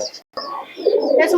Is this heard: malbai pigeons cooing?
yes